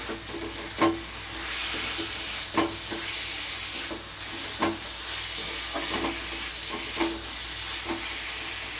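Pointed gourd (potol) frying in a little oil with green chilli, a soft steady sizzle broken by regular scraping stirs about once a second, close and fairly quiet.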